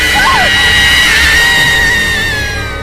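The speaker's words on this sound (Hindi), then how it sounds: "उसके खौफनाक चीखों की आवाज सुनते" A witch's terrifying screams in a dark forest near a village, rendered as shrill, sustained howling shrieks that waver and swell loudly throughout without pause, over a rumbling low backdrop.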